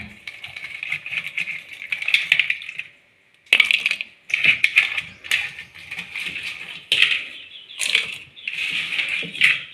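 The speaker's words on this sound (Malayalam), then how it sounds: "ഇനി നമുക്ക് ഞണ്ടും കൂടി ചേർത്ത് കൊടുക്കാം" Crab pieces tipped into a pan of curry with fried chilli powder, giving a close wet sizzle and clattering, crunchy knocks in uneven bursts separated by short pauses.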